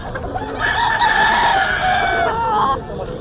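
A talisayin stag rooster for sale at a poultry market gives one long, loud crow close by, drawn out over a couple of seconds and trailing into a brief cluck, with a little background noise around it.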